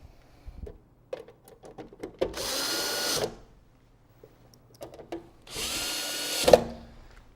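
A power drill drives screws into a transformer rough-in in two bursts of whirring, each about a second long, with soft clicks and handling noises between them and no talk.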